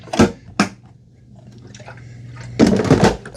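Eufy E28 robot vacuum mop spraying water during self-cleaning, with short hissing spray bursts near the start, a low steady motor hum underneath, then a longer, louder gush of spray at the end.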